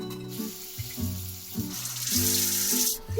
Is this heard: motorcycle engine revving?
no